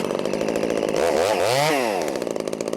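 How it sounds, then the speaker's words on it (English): A 50cc chainsaw screams at high speed close by, briefly dipping and climbing in pitch through a couple of throttle blips before settling back to a steady high whine. "I put this Mufasa up against my strongest 50cc saws to see how it compares"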